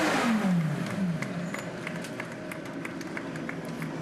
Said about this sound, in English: Big rev to say well done